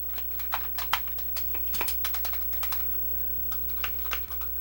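Keys clack on a Commodore 64 keyboard, a run of irregular, close, crisp taps with a few louder presses over a steady electrical hum.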